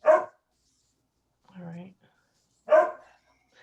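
A dog barks twice from indoors during a town board meeting, two sharp, separate barks with a gap between them, and a person speaks briefly in the pause.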